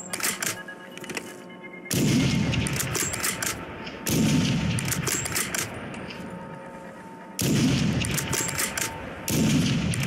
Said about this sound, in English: The next weapon is the FJX-Imperium, a very solid looking sniper rifle, also from Modern Warfare.